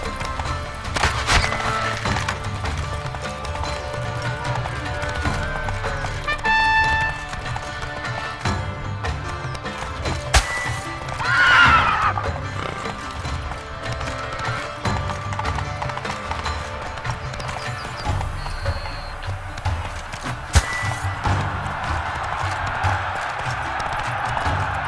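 Hooves of Roach, a horse in The Witcher 3: Blood and Wine, clip-clop steadily at a gallop over a loud game soundscape of music and ambience, with a brief rising whinny-like burst partway through.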